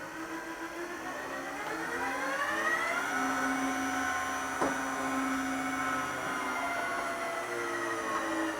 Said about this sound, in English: you can turn the actual sander on itself without using the belt.